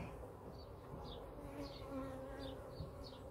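Honey bees buzz steadily at an open hive during feeding in a UK apiary, a close, continuous drone with small rises and falls and no talking.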